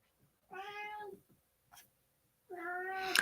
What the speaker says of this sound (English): My dad just dropped my cat in here.